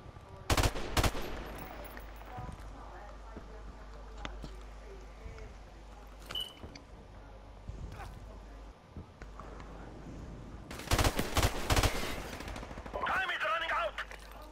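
Bursts and single shots of gunfire in Call of Duty Modern Warfare Remastered, competitive online match: sharp cracks spread through the stretch with a dense loud volley near the end, over steady game ambience and occasional voices.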